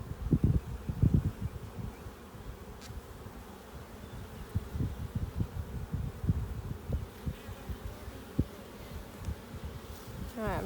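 Honeybees swarming loudly over an opened hive frame, a close, dense buzz full of rising and falling wingbeat tones, with bursts of breath blown across the bees and some rustling.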